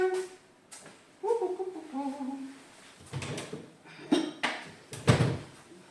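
Dishes and kitchenware being handled and put away during home meal prep: scattered clinks, knocks and clatters of crockery and pots, some louder bangs near the end, under light background noise with no talk.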